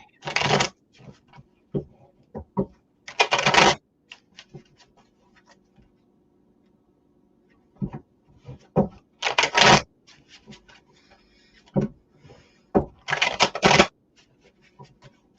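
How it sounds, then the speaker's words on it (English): A deck of tarot cards being shuffled in several loud, close riffling bursts separated by pauses, with soft scattered taps and brief quiet talk in between. "I'm going to shuffle this deck here right away"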